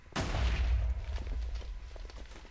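A pyrotechnic device in Minecraft goes off with a sharp explosive boom, followed by a rumbling, crackling tail of smaller pops that fades over a couple of seconds.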